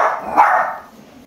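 A dog gives one loud, close bark that trails off into a short whimpering tail, alone with no talk over it, in a home where a wolf turtle is also kept.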